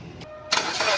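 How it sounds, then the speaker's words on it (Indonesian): A 2011 Suzuki Swift 1.5-litre M15A engine with automatic transmission catches and starts up, shifting from a quiet hum into a loud, steady broadband running roar close by. "suara mesin dari Suzuki Swift GT 2011"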